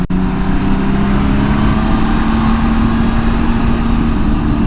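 A Honda Goldwing motorcycle engine riding in sport mode gives a steady, close, loud drone, with a low tone that rises slowly and holds through the whole stretch, and no talking.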